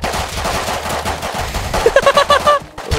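Rapid bursts of P2 pistol gunfire in the video game Rust ring out in quick succession, loud and sharp over chaotic in-game action, with a brief tonal chime near the end before a short drop.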